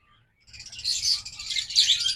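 An olive opaline lovebird pair chirps steadily, with close, bright overlapping tweets running continuously after a brief quiet start.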